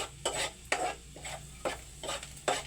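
Marinated shrimp tumble into a pot and get stirred, with rhythmic scraping strokes about every half second over a soft steady sizzle, close and moderately loud, no voices.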